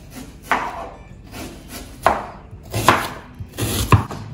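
A knife chops vegetables into thin, long strips for Hyderabadi biryani on a wooden board, with four or five sharp, close cuts at an uneven pace and no talking.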